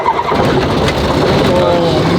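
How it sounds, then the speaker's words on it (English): Small propeller plane engine running after a key start, a steady loud drone filling the whole stretch with a constant low rumble and no clear pauses. "turn the key, wait for it to start."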